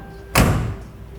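A 1967 Camaro door shutting: one solid, deep thud with a short dull tail, close and loud, with no voices.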